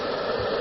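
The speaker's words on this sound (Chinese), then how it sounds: "我用这个吹风机的风来代表水流" A hair dryer blows a steady, close, loud stream of airy whooshing noise for under a second, used to push air into a washing-machine drum holding a sock.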